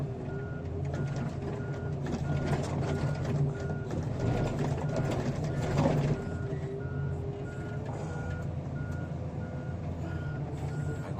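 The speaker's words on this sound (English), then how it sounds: "I go a truck backing in right now as we speak, guys." A heavy truck backing in at a yard with unpacked ground, its reversing alarm beeping in a steady, even rhythm over a loud idling engine, with brief mechanical clanks and hisses, close by.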